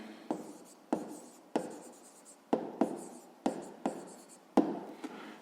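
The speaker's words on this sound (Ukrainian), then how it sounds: "Записуємо відповідь." Pen or pencil writing on paper while working a grade-5 math exercise, a series of distinct scratchy strokes in steady bursts, close and fairly quiet with no talking.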